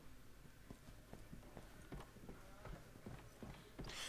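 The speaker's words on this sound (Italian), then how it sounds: "Cavallo!" Horse hooves clip-clop in the video game Resident Evil 6, a steady run of sharp, evenly paced hoof strikes heard close and clear over a busy game soundscape.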